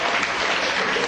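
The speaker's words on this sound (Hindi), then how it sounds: "ताली ताली ताली ताली" College students at a joint NSS and Lions Club event applaud together, a dense, steady burst of clapping filling the room without pause.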